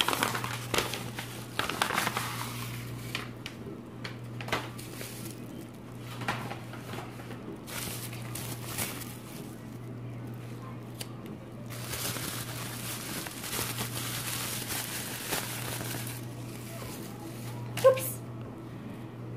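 Plastic packaging from a Valentine's Day swap parcel crinkles and rustles in bursts while being opened up close, with scattered clicks and knocks over a steady low hum, no talking.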